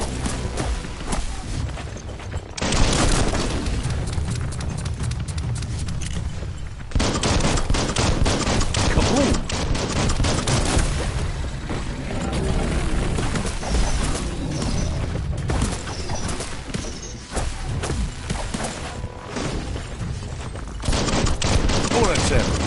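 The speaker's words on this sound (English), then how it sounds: "Bullets everywhere." Heavy gunfire in the Biomutant video game, a dense, loud, continuous barrage of shots and booms that runs with brief breaks in the middle, with no talking heard.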